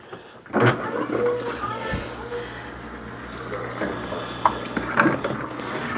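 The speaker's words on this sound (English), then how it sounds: "Now we're going to turn it to drain." A Della portable washing machine drains water with a steady splashing, trickling flow, punctuated by clunks and knocks as the drain is set, and speech occurs over it.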